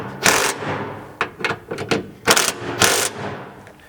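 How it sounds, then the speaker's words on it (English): A 13mm socket tightens the bumper mounting brackets on a Polaris Ranger, heard as a series of short, close mechanical bursts of rapid clicking spaced irregularly, with no speech. "tightening those up to the vehicle using that 13mm socket"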